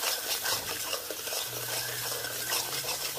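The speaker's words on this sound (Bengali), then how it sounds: "সব মশলা ভালোভাবে কষাই নেব।" Turmeric, chilli powder and salt are stir-fried in a pan, giving a steady close scraping and rustling over a soft sizzle, with a low hum running underneath and no talking.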